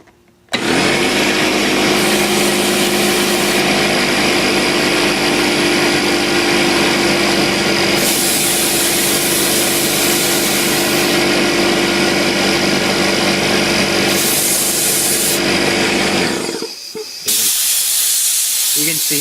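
A Makita MAC2400 Big Bore 2.5 HP air compressor runs with its air drain left open, a loud, steady, dense mechanical roar and hiss that holds for about sixteen seconds before briefly dropping off near the end.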